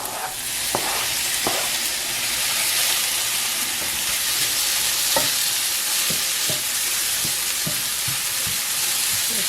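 Garlic and Roma tomato frying in a pan, a loud, steady, hissing sizzle with occasional light knocks of a utensil stirring.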